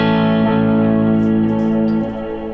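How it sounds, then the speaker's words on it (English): A sustained, distorted electric guitar chord rings out, washed in long ambient reverb, fading slightly toward the end. "you want to have a really big ambient reverb sound like this."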